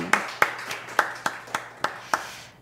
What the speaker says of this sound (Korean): 우리의 찬양 가운데 함께 하신 주님께 영광의 박수를 올려드리겠습니다